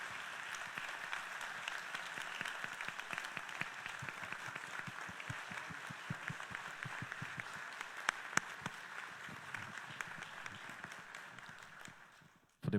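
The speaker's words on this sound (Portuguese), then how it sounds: "vamos encerrar este momento com uma salva de palmas carinhosa aos nossos formandos" A congregation at a Brazilian Catholic Mass marking the end of the seminarians' school year applauds the graduating seminarians with warm, steady clapping that fills the church for about twelve seconds before cutting off.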